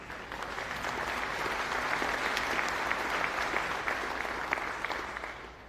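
A large audience at the 37th International Drug Enforcement Conference claps through a keynote address by Prime Minister Andrew Holness. The applause is dense and sustained, swelling slightly and then easing over several seconds in a big hall.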